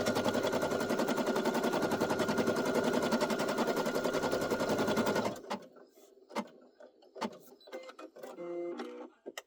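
A Brother SE1900 embroidery machine hums in a dense rapid stitching rattle while running an over-edge border on a fabric coffee coaster, loud and continuous for about five seconds before stopping, followed by scattered quiet clicks and handling sounds.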